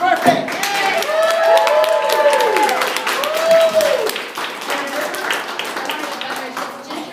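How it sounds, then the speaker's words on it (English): Party guests clapping and cheering for a birthday girl at a home birthday gathering, lively applause mixed with excited voices and whoops, close and fairly loud. "Give Kat a round of applause, it's her birthday!"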